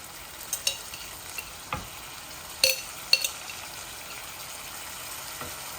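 Tomato and garlic sauce goes into chicken frying in a pan, a soft steady sizzle with a few sharp clinks and scrapes of stirring scattered over it, fairly quiet.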